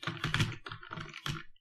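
A computer keyboard is typed on while writing code, a close, busy run of key presses in quick clusters with brief gaps, alone.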